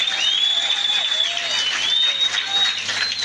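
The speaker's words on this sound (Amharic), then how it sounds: "ጭብጨባ በጣም ያንሳል።" Church congregation applauding during a worship service, a dense sustained wash of clapping that holds steady for a few seconds, with a wavering tonal voice or instrument line running over it.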